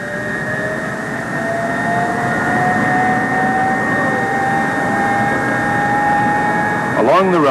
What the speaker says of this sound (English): With power and starting gear hooked up to the airplane, the engines are started.